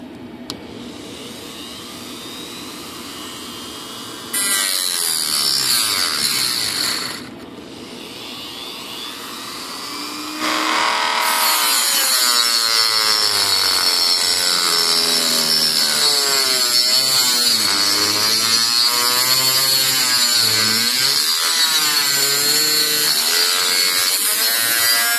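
A screw clamped tight is sawn through with a hand tool during a Volantex Phoenix Evolution RC sailplane build, giving a loud, steady rasping cut that starts after a quiet lead-in, pauses briefly, then runs continuously to the end.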